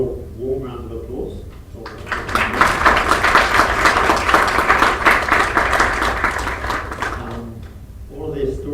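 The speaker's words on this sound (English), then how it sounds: "give the ladies a real warm round of applause" An awards evening audience claps warmly for several seconds, loud and dense, with someone speaking before it starts and again as it fades.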